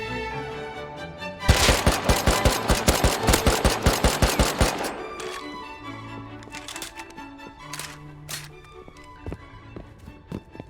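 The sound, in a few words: gunfire from the video game Rust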